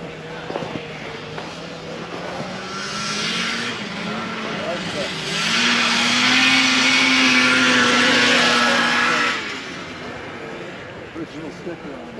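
A vintage 1971 Massey Ferguson Ski Whiz snowmobile engine runs at a snowmobile show in Hugo, Minnesota. Its droning motor swells louder in the middle and then drops back to an idle, with voices around it.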